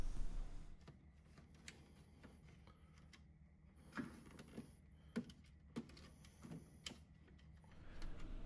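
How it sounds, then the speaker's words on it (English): A plastic zip tie is ratcheted tight around wiring while a Tesla Wall Connector Gen 3 charger is installed, giving faint, scattered ticking clicks in a quiet room with no talk. "We'll start by securing the wires with the provided zip tie."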